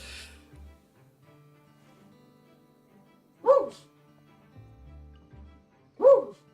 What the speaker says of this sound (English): Can you stop barking at the neighbors?